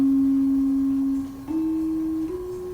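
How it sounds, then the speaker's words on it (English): Five-note slendro gamelan scale in pentatonic tuning, played as a clean sustained tone stepping between pitches, alone with no talk. "Gamelan slendro, popular with the common people, uses slendro tuning, splitting the octave into 5 parts."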